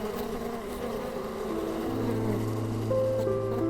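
Flies swarm over rotting refuse, a dense close buzzing drone with several wingbeat tones that shift and overlap, loud and steady throughout with no talk.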